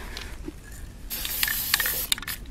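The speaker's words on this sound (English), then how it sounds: "Ugh, I hate spray paint." A can of spray paint hisses onto glass in short bursts, first faint and close, then a longer, louder continuous spray broken by brief pauses.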